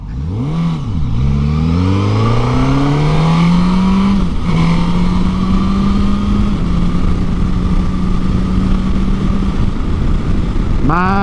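2024 Suzuki GSX-S1000GX+ motorcycle on a demo ride, loud and close, revving up through quick-shifted gears with rising pitch sweeps, then holding a steady high drone under strong wind rush.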